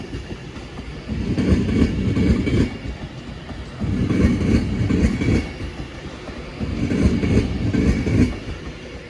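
An Avanti West Coast passenger train (unit 390040) bound for London Euston rumbles past nearby with repeated surges of wheel noise, the clatter swelling and fading in three waves.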